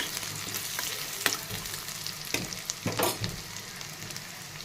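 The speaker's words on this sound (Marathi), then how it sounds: "कांदा आपल्याला एक दोन तीन मिनटं छान असा तेलावर परतून घ्यायचा आहे" Onion sautés in oil in a kadhai, a steady close sizzle and crackle broken by a few sharp scraping stirs, with no talking.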